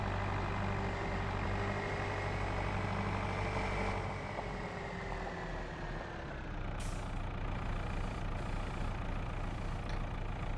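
A tractor engine in Farming Simulator 25 runs steadily at a low, droning idle, with a faint shift in tone midway and a couple of small clicks near the end, with no talk over it.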